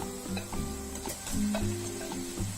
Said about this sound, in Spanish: Lo mezclamos muy bien y dejamos que la salchicha se cocine.